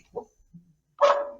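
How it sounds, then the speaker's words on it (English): A dog in a house gives a short bark or two: a faint yip, a low soft woof, then a louder, fuller bark near the end, with quiet gaps in between. "There's my dog barking."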